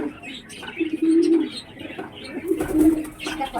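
Pet pigeons cooing close by, several soft low coos in short bursts with faint chirps and rustling between them, and no talking.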